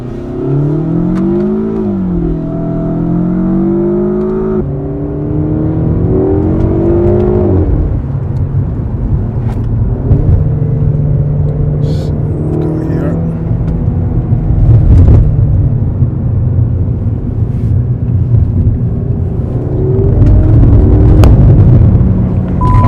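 Alfa Romeo Giulietta or Mito QV car accelerating hard through gear changes, loud engine notes rising in pitch then dropping at each shift, with a rough rumble and sustained revving heard from inside.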